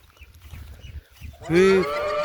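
After a moment of quiet shuffling, a cow lets out one loud, drawn-out moo close by.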